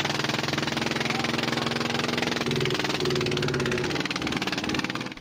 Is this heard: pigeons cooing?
no